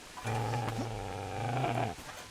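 A dog growls in Kingdom Come: Deliverance, a low, steady, rumbling snarl that holds for nearly two seconds, close and fairly loud, with no talk over it.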